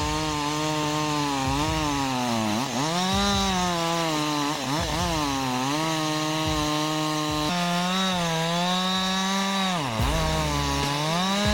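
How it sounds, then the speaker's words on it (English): A STIHL chainsaw felling trees runs steadily and loud for the whole stretch, its engine pitch sagging under load as the bar bites into the wood and rising again when it frees up, with no talk over it. "The STIHL chainsaw, a symbol of reliability and innovation."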